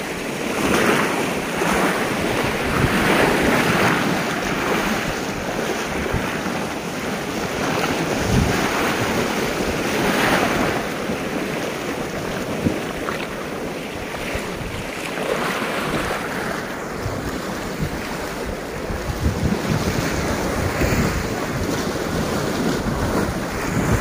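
Surf washes steadily onto Kalapathar beach on Havelock Island, a black-rock shore with green water, with constant breaking waves and gusts of wind buffeting the microphone.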